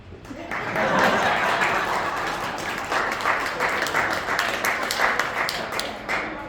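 Applause ripples through an audience at a golf club gathering, building quickly into a broad, sustained clatter of claps with scattered louder taps, faint chuckles and voices mixed underneath.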